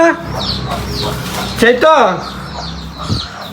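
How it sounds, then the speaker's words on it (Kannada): A hen or rooster clucks in short bursts close by, a few sharp calls standing out over a steady background while people talk nearby. "ಈ ಕೋಳಿ ಬರೀ ಹಿಂಗೆ ಹೊಡ್ತು"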